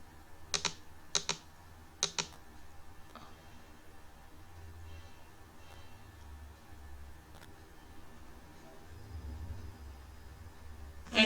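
A computer keyboard is typed on in a spreadsheet, with three quick double clicks of keys near the start, then a long quiet stretch broken by a single click and a final tap.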